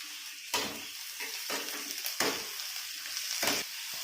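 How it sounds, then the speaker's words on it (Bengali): Capsicum and chilli fry in a pan, a crackling sizzle broken by several bursts of louder spattering and stirring scrapes at uneven intervals, close up with no voices. "আমি এর ক্যাপসিকামগুলো দিয়ে দিচ্ছি, লঙ্কাটাও দিয়ে দিচ্ছি। ভালো করে আমি ভেজে নেব"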